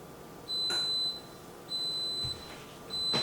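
A Deluxe Multi-Cooker gives three evenly spaced electronic beeps, each about half a second to a second long, clear and close in a quiet room as its dial is turned to the poultry setting.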